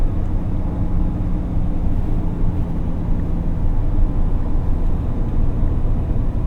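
A 2026 Ram 1500 RHO pickup with the Hurricane engine, heard from inside the cab while driving: a steady low engine and road rumble that holds at an even level throughout.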